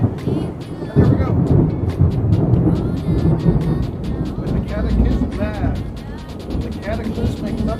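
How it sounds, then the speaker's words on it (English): A heavy thunderstorm rumbles and crackles steadily in the background while someone talks over it throughout. "the cataclysmic thunderstorm in the background"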